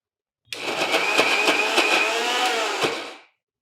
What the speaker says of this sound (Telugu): ఇప్పుడు మిక్సీలో వేసాక ఇది మరీ మెత్తగా శుద్ధ అయిపోకూడదు, జస్ట్ మొత్తానికి బ్లెండ్ అవ్వాలి, కలవాలి అంతేనమాట.